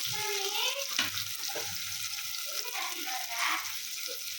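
Onion and garlic frying in a pan for mutton egg gravy, a steady close hiss and sizzle with occasional stirring, without talk.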